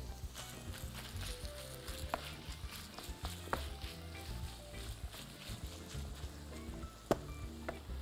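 Meat sizzling in a pan while cooking nachos, a low steady fry with scattered clinks and scrapes of stirring, fairly quiet and close.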